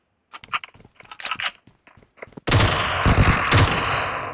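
Gunfire from a new weapon in the PUBG video game: after a stretch of sparse clicks and short bursts, a loud, dense rapid-fire volley starts midway and keeps going to the end.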